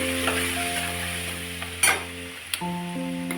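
Green chilli paste and turmeric are stirred in a hot frying pan, making a continuous sizzle broken by a couple of sharp scrapes of the spoon, with background music behind it.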